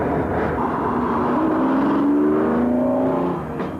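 A Lamborghini Diablo's engine drones steadily and loud, its pitch rising as the car accelerates, then easing slightly near the end, with no voices over it.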